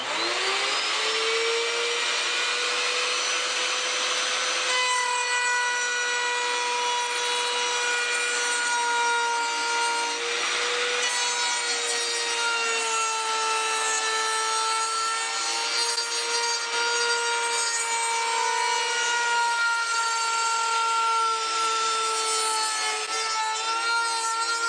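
A pantorouter drives its spinning router bit through wood at full depth in a single pass, giving a loud, continuous whine with shifting tones and no pauses, and no voices.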